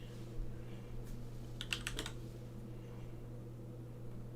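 A short burst of computer keyboard typing, several quick keystrokes clustered together, close but quiet over a steady low hum from a fan or machine.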